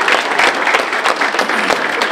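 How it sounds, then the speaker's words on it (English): Audience applause filling a room at an anniversary evening celebration, a dense, steady wash of many hands clapping at once, loud and continuous for the whole stretch with no voices on top. "please give yourselves a big round of applause for being in attendance here tonight"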